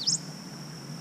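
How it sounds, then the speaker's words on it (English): A prothonotary warbler in a bush beside a river gives one short, high, faint chirp at the very start, followed by quiet background ambience. "I see a prothonotary warbler up in this bush right here."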